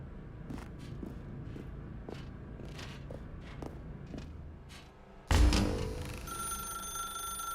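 After a stretch of footsteps in a dark room in The Stanley Parable video game, a telephone suddenly starts ringing loudly and keeps ringing.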